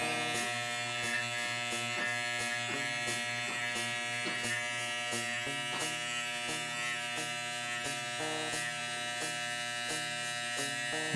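Electric hair clippers trimming the neckline during a taper haircut, a steady close buzzing hum with small rhythmic changes as the blades move through hair, continuous and alone.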